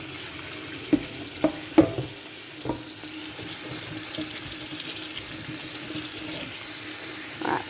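Water runs from a movable hose tap as fruit and vegetables are rinsed, a steady moderate splashing flow with a few sharp knocks and clatters of produce and containers near the start.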